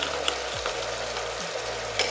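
Quiet, steady sizzling of meat pie filling frying in a pan, a soft crackling hiss with a few faint scrapes and clicks.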